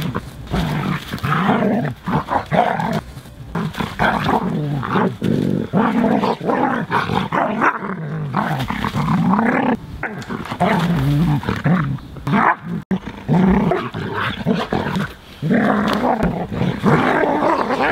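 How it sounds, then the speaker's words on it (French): A dog growls and snarls almost continuously while playing and wrestling with a person, rough and close, with short breaks between bursts. "Je m'entraîne avec le chien et en même temps je joue avec lui."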